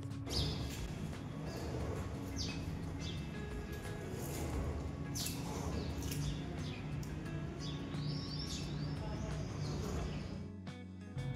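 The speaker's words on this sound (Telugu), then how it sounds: "యాక్చువల్గా ఈ టైంలో అయితే బర్డ్ సౌండ్ చాలా బాగుంటాయి" Birds chirping and calling in the morning, several small high chirps scattered over a steady outdoor background with some low rumble.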